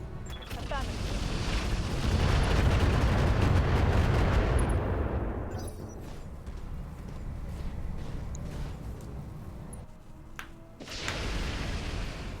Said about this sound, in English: Give him a skirmishing barrage